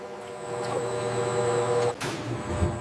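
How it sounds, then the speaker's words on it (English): An industrial mixer blending toothpaste paste churns with a loud steady mechanical whir and hum, then briefly changes pitch with a sharp rushing burst as it speeds up. "The mixer kicks into high gear for the final homogenization."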